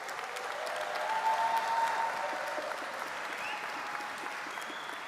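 Delegates at a GMB union congress applaud steadily for the full stretch, a dense wash of hand claps filling the hall with a slight swell early on and no pause.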